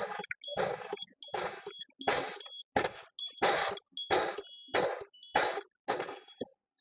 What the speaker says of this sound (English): So the lower air warning alarm and the buzzer has activated at 60 psi.